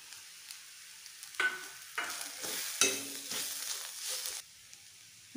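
A green pea mixture with spices sautéing in a pan, with a hissing sizzle that swells and fades as a spoon stirs and scrapes through it in irregular bursts, close and moderately quiet.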